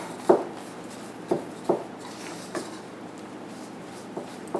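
A spatula mixes moist biscuit dough in a bowl, producing a quiet series of irregular soft thumps and scrapes over a low background hum.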